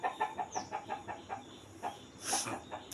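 Chicken clucking in a Tamil home or farm setting: a run of short, rhythmic clucks at moderate distance, fairly soft, with a slightly louder squawk near the end and no talk.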